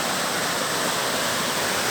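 A river rushes past in a dense, constant roar of flowing water, loud and close, with no pauses and no voices.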